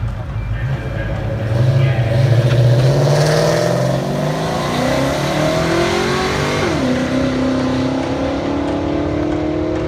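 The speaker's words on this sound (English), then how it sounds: "So that burnout was lackluster." A nitrous Foxbody drag car does a burnout at the track, its engine revving hard with rising and falling pitch under crowd noise and talk.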